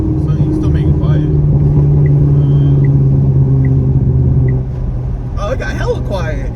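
Cammed 900whp Corvette C7 Z06 with a low, steady engine and exhaust rumble droning under the cabin for several seconds before dropping quieter, with people talking over it near the end.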